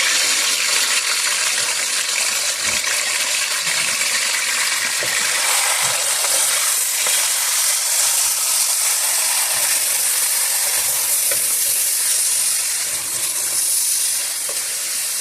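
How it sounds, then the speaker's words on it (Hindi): Chicken sizzles and is stirred in a pot for chicken haleem, giving a steady, close broadband frying hiss with faint scattered clinks and scrapes throughout. "चिकन का कलर चेंज होने तक हम इसको थोड़ा सा चिकन को फ्राई करेंगे।"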